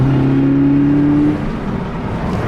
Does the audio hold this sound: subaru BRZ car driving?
yes